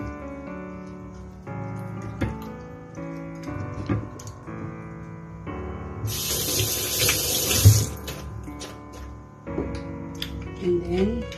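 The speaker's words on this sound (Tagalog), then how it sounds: "ugasan natin ng asin" Tap water runs into a kitchen sink while raw chicken is washed with salt, a steady close splashing stream that swells louder partway through as the flow hits the meat and basin, with a voice talking at times over it.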